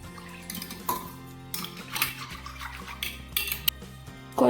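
Water being poured into a buttermilk mixture in a home kitchen, heard as intermittent splashing and trickling with clinks of dishes and utensils, fairly close, ending in a louder burst of pouring.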